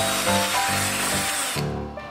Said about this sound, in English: Drilling another hole in the base and in the antler.